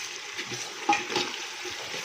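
Ginger garlic paste sizzles and crackles steadily in a hot pan, with a brief scrape of stirring partway through.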